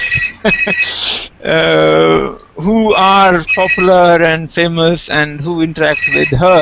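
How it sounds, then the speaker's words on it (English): A telephone rings in the background of a home recording while a person keeps talking steadily over it; the ringing stays faint and partly buried beneath the voice. "Apologies for the phone in the background."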